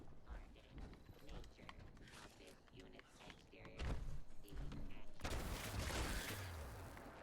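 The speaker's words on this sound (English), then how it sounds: "I have no clue what they're shooting at" Video game gunfire breaks out as scattered bursts of shots partway through, then a sustained, noisy volley near the end, mixed with game sounds and someone talking.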